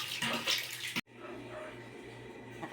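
Water from a water pump rushes steadily into a basin at home, a close, splashing flow that cuts out briefly and then resumes as a softer, steady stream.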